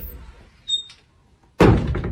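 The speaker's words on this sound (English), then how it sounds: "Knock, knock." A door is struck or knocked on, with a faint tap first and then a heavy, loud thump that rings on briefly in a quiet house.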